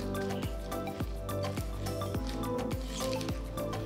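Mango pickle is being stirred together with tempered spices and oil in a bowl. Close, wet squelching strokes repeat in a steady rhythm about twice per second, with sticky dripping sounds between them.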